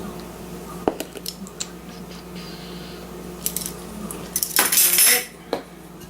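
Spoon clinking against a bowl while stirring apple cake batter with apple pie spice, a scattering of sharp taps and scrapes ending in a louder rattling burst.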